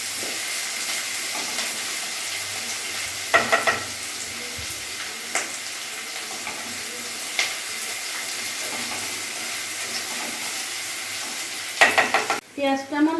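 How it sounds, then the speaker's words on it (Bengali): Chopped onions frying in hot oil in a kadai for dhaba-style chicken curry, a continuous sizzle with intermittent stirring scrapes and clinks of a spatula, close and fairly loud. "আমি ভালো করে ভেজে নেবো লাল লাল করে।"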